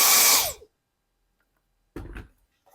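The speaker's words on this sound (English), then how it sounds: "So I'm going to have to drill out this washer to exactly the right size" A power drill bores a hole for pop rivets in a shoe repair, whirring loudly for about half a second and winding down, then a short second burst after a pause.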